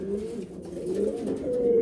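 Pigeons coo steadily in a loft holding breeding pairs of Morrillero and Valenciana breeds, with low, rolling calls that overlap and continue without pause at moderate loudness.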